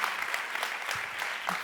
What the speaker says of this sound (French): c'est quand même préférable d'applaudir avant